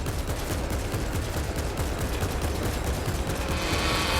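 Sustained volley of gunfire from many weapons firing together in a Warhammer 40k battle aboard a strike cruiser, a dense unbroken rattle of shots that carries on at steady loudness with no pauses.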